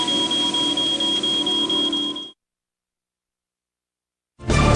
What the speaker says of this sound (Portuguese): Quando as partículas de fumaça rompem essa corrente, o alarme dispara.